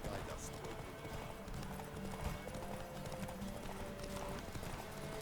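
A horse galloping in The Witcher 3, rapid rhythmic hoofbeats pounding steadily under game music and ambience, with a voice talking over it.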